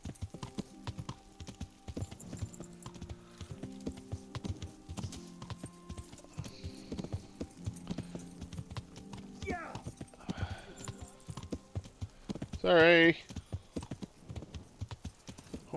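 Horse hooves clip-clop in the medieval role-playing game Kingdom Come: Deliverance, a quiet, steady rhythm of hoof falls with a sharp neigh near the end and a brief spoken word from a player.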